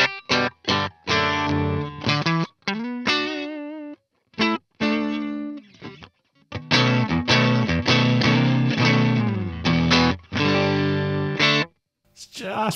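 An electric guitar runs through a TC Electronic Combo Deluxe 65 amp with the reverb switched off. Crunchy, slightly overdriven chords and quick note runs are picked in choppy phrases, each cut off with short silences in between.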